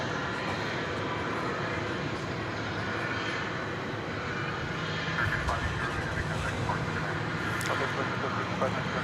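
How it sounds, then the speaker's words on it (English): A Martinair Cessna 208B cargo plane at DFW Airport drones faintly and steadily in the distance, its engine hum low under outdoor ambience, with a person talking over it. "That is a Martinair Cessna 208B."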